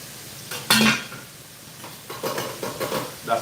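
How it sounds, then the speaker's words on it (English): Metal lid of a Dutch pot clatters and clinks against the rim in a home kitchen where chicken is frying, with a loud clank near the start and lighter rattles and scrapes afterward. "That's the sound of the Dutch pot cover, you know?"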